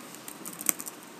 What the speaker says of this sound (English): then you will start typing the address, which is the URL for